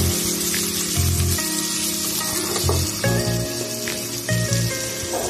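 Onion, green chili, curry leaves and two kinds of dal frying in hot oil, a steady close sizzle and crackle with intermittent tonal hums and beeps layered over it.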